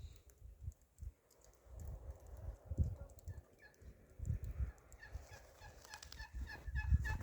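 Geese call in short, scattered honks and squawks at moderate distance on a farm, mixed with low thumps and shuffling noises.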